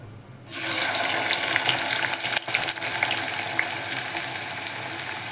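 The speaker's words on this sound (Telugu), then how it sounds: "ఆయిల్ మంచిగా వేడెక్కింది ఇందులోకి ఉల్లిపాయలు వేస్తున్నాను" Onions dropped into well-heated oil for a chicken dum biryani set up a loud, steady sizzle that jumps in after a brief quiet start and holds close and even, with one short dip in the middle.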